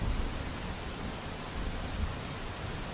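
Storm rain falls in a steady, even hiss with a faint low rumble beneath, moderately quiet and unbroken, no voices present.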